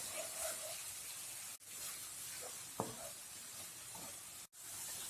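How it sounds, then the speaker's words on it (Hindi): Chopped onions with green chillies fry in hot oil in a pan, giving a steady, soft sizzle and hiss, with one brief stirring clatter partway through. "प्याज का कलर ब्राउन होने तक इसे फ्राई कर लें।"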